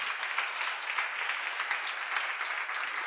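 Lively audience applause at a church seminar on Romans, many hands clapping in a dense, crisp burst that carries on steadily for about three seconds.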